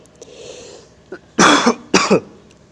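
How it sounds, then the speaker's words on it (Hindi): Two loud, harsh coughs close to the mic, each a rough burst, after a quiet moment with faint background hum. "यार खांसी बहुत तेज़ हो रही है।"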